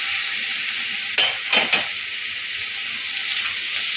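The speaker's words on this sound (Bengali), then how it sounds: "আবারও ভালো করে নেড়ে চেড়ে নেব" Prawn curry with potato and eggplant cooks in a pan under a steady soft sizzle, broken by a short burst of spatula scraping and clinks near the middle.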